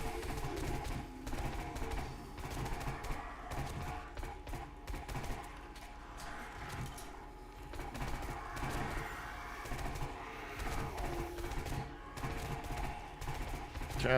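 Gunfire in the 7 Days to Die video game while shooting at a zombie horde, with dense, continuous bursts of shots over game music and ambience, steady and fairly loud throughout.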